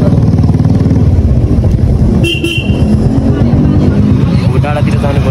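A motorcycle climbing uphill with its engine droning loud and close, steady under strong wind buffeting, and a brief horn toot partway through.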